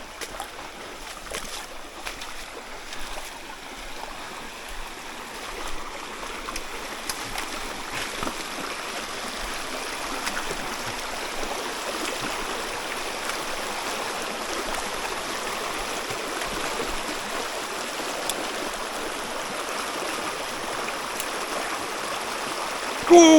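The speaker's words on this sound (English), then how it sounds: "Oh, it's pouring rain." Heavy rain pours steadily onto a trout river, a dense, even hiss of drops on water that holds for the whole stretch, with no voices.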